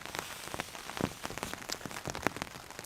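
Steady rain pattering on a tarp canopy over a solo forest camp with a fire nearby, dense and continuous with sharper close drops landing on the shelter, no voices.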